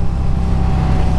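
A KTM Super Duke 1290 motorcycle with a 1301cc engine sends out a loud, close, steady low rumble with no clear revving.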